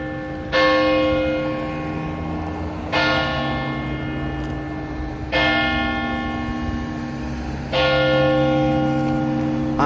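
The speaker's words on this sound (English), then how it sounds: "we're waiting for the old bells to start ringing, since it's almost 5 o'clock" The old church bells of St. Casimir's strike loud and near at five o'clock, four evenly spaced strokes each leaving a long humming decay.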